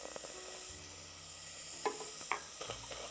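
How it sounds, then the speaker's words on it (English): Small-diced onion sautéing in a dry pan with no oil, soft steady sizzle with a few light stirring scrapes and clicks, no voices. "We're gonna start with one onion that I've diced pretty small. We're gonna get that sauteing first."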